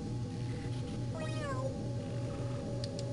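A cat meows once in the video game Mother 3, a short pitched call over a steady droning game background, with faint chiming blips near the end.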